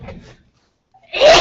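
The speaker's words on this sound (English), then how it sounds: "I'm going to sneeze" A single sneeze from a man, preceded by a short breath and silence, then a loud, close, sharp burst of air lasting about half a second.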